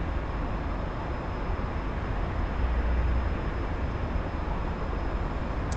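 An F-15EX fighter jet in the DCS flight simulator roars down the runway and lifts off, a steady, loud, broadband engine rumble that holds constant throughout with no breaks.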